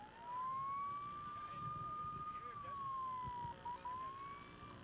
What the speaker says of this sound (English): the sirens now coming by, turning on, just because they drove by us, they decided to turn them on.